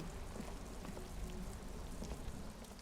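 Steady, faint rainfall patters across surfaces in the Disco Elysium game world, a soft continuous hiss with scattered drop clicks and no voices.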